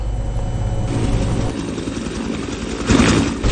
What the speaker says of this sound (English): Helicopters are being deployed to transport the official insignia